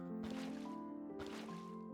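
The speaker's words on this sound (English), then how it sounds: "We do, but they're full of water. So let's empty them out." Buckets of water being emptied in Minecraft, a soft sloshing, squishing pour that repeats twice in quick succession, close and fairly quiet with no talking.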